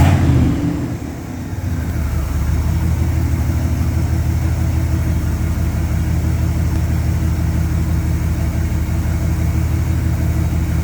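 The engine of a 1981 Daytona 500 pace car idles with its choke wide open, a steady, loud, close rumble after a brief dip at the start, with no talking.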